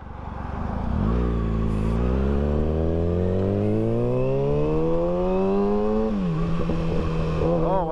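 A Kawasaki ZX6R sport motorcycle engine catches and revs, its pitch climbing steadily before dropping back to a settled idle; loud and close, no voices.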